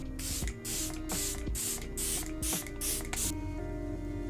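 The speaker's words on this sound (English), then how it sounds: "Today I'm gonna do the ColourPop Pretty Fresh Lock It In setting spray." A series of quick hissing spray bursts of ColourPop Pretty Fresh Lock It In makeup setting spray, about seven in rapid succession, close to the microphone over a steady background hum.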